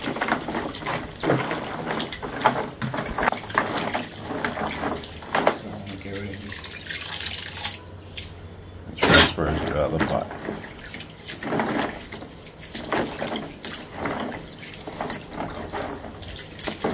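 Water pours and splashes onto palm nuts being washed for Liberian palm butter, a running, trickling sound with people talking over it.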